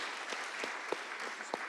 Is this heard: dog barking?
no